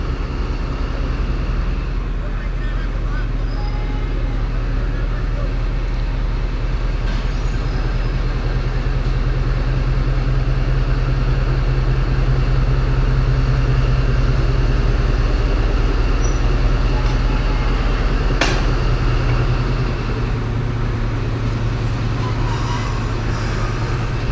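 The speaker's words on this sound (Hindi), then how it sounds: "पूरे 11 बजे डिपार्चर हो रहा है 20 मिनट डिले के साथ 40 डाउन जाफ़र एक्सप्रेस का रावलपिंडी रेलवे स्टेशन से" Jaffar Express passenger train pulling out of Rawalpindi railway station, a steady loud rumble of wheels and carriages with low engine drone throughout and occasional brief squeals and clanks.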